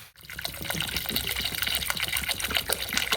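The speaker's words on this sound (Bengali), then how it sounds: "এবার এর মধ্যে আমি জল দিয়ে দেবো।" Water pours steadily into a cooking pot holding chicken for momo soup, a continuous splashing gush at close range lasting throughout, with no talking.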